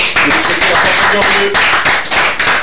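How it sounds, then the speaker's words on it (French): A studio audience claps for guest Didier Kirikou on a French-language television set, a brief burst of steady applause lasting a few seconds with voices mixed in. "Merci de l'applaudir s'il vous plaît."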